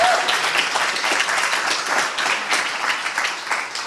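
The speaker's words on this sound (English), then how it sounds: "Let's have a round of applause for all of our panelists and speakers." Audience applause for panelists and speakers at a climate and freedom symposium during COP26 in Glasgow, a full, continuous patter of many hands clapping, close and steady with a slight dip midway.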